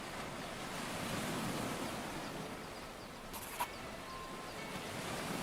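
Ocean surf washing onto a beach in the survival video game Force of Nature, a steady broadband rush of waves with wind noise and no talking.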